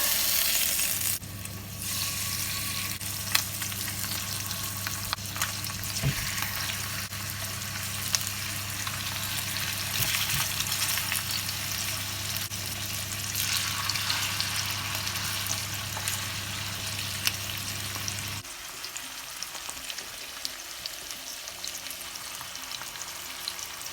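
Steady sizzling and crackling of seasoned chicken thighs frying in coconut oil in a hot oven-safe skillet, continuous for most of the clip, then the sizzle drops away near the end.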